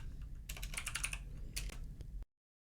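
Code is being typed on a computer keyboard while working with Selenium WebDriver. A close, quick burst of clattering keystrokes comes with a short pause, then stops abruptly into silence.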